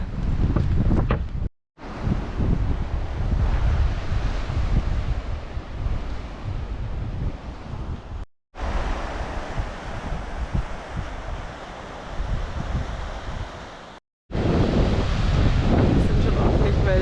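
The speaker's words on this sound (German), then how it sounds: "Es sind schon ordentlich Wellen." Loud, steady roar of surf and gusting wind buffeting the microphone on the coast at Muxía, Spain, with waves washing in continuously and a few brief dropouts.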